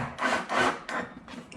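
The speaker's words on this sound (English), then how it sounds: "now we are going to screw in all the handle one at a time using a forward screwdriver on the other side, and just screw it in" Screwdriver driving a screw through a drawer handle into wood, a few rough rubbing, grinding strokes in quick succession, close and fairly loud, with no talking.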